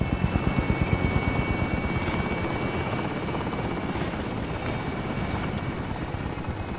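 A video game helicopter's rotor chops steadily throughout, a dense pulsing thrum with engine whine on top, loud and continuous with no talking.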